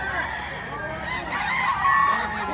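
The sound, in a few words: Henny Blues rooster at a livestock auction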